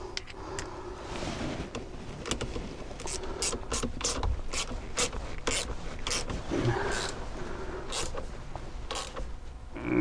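A ratchet with a socket and extension tightens a car battery terminal on a PT Cruiser 2.2 CRD, giving rapid, close clicking and creaking in repeated bursts of strokes, with no talking over it.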